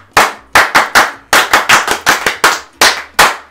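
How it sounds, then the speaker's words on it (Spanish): A few people clap at an event as Naye Rodríguez is called up, about a dozen sharp, separate claps in an uneven rhythm, close and loud, with no talking over them. "un aplauso para Naye Rodríguez"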